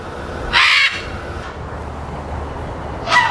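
A large bird at Palm Beach Zoo in West Palm Beach, Florida, gives two loud, harsh caws, the first longer and the second a few seconds later, over a steady outdoor background hum.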